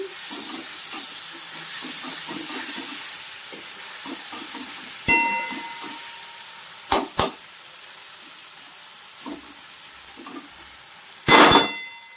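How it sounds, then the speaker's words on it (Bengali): Masala spice paste with turmeric being fried and stirred in a pan for egg curry, a soft continuous sizzle with scraping strokes and a few louder clanks of the utensil. "মশলাটা এবার ভালো করে কষিয়ে নিচ্ছি"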